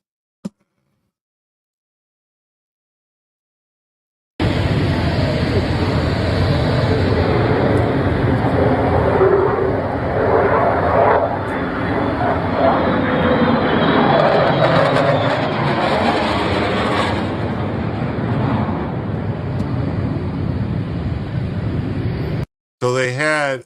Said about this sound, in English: So they had a B-2 stealth bomber and some F-22 Raptors fly over while they were talking.